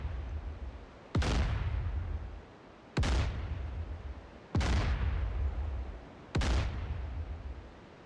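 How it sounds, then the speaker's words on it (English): Four heavy naval gun blasts in DCS World, a Baltic Sea battle, each a sharp boom with a long rumbling tail, spaced about two seconds apart and loud with no talking. "Say 1500 on the button, and we'll start opening fire."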